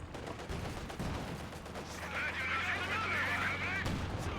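A volley of gunfire in the World War II strategy game Company of Heroes 2, with dense overlapping shots and battle noise over a continuous loud bed, with a voice talking over it.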